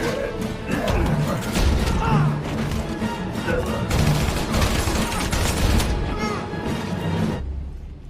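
Assault rifle fire in a film fight scene, heard as loud, dense bursts of rapid shots mixed with crashes and impacts, sustained for several seconds before cutting off abruptly.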